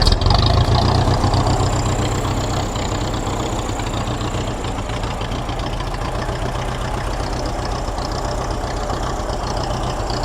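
A 1954 Ferguson TEA 20 tractor engine idles in neutral after recently running, a steady, dense low chugging that stays loud and even throughout with no speech.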